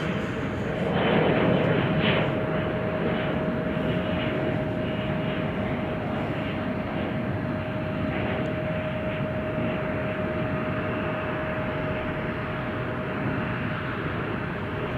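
A KLM airliner, flight 611 from Amsterdam, climbs away from Chicago O'Hare in thick fog. Its engines make a broad, steady roar that swells early and then holds without pause.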